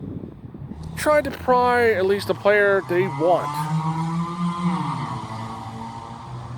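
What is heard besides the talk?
motorbike going by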